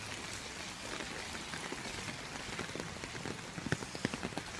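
Steady morning monsoon rain falling on surfaces outdoors, a dense even hiss with sharper drips and splashes tapping nearby toward the end.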